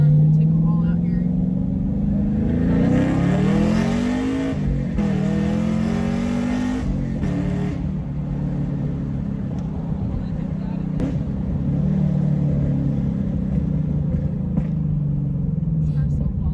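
A manual Chevrolet Camaro accelerates hard on a back road, heard from inside with a loud engine drone that climbs in pitch through the gears, then settles into a steady rumble while people talk over it.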